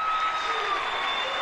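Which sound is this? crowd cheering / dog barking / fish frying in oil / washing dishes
crowd cheering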